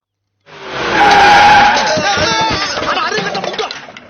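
A car braking hard, tires screeching in a loud sustained skid that starts abruptly and holds for several seconds before breaking into rough juddering, up close with no talk over it.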